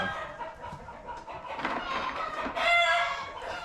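Ranch chickens cluck and squawk loudly nearby, a busy overlapping chorus with a sharper, louder burst toward the end, while a person talks faintly underneath.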